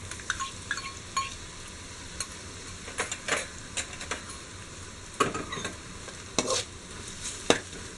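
Ginger garlic paste fries in a pan with onions for Kerala-style beef biryani, a close, steady sizzle broken by scattered scrapes and clinks of a stirring spoon against the pan.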